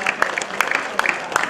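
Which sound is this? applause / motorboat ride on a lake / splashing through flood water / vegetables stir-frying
applause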